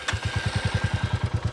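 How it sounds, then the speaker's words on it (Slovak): A 2023 Royal Enfield Classic 350 single-cylinder engine with fuel injection and catalytic converter fires up and settles into a steady, low thumping idle, each beat distinct and evenly spaced, loud and close with no talk over it. "A toto je ten krásny zvuk. Štandardného stojatého jednovalca"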